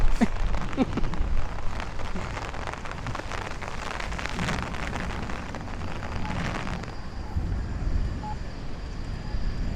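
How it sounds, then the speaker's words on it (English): Steady thunderstorm rain patters and hisses on a Brooklyn street in Bay Ridge, dense and close, holding a constant wash of drops throughout with no voices. "here comes the rain, guys. You're gonna start hearing rain in a second."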